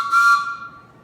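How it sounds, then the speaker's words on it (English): A train whistle gives one brief, bright, clear tone that swells and then fades away, heard alone. "I have a train whistle."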